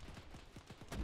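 Repeated game gunfire in a Krazovian last-stand operation, a steady series of shots about every tenth of a second with low booms, heard alone and moderately loud.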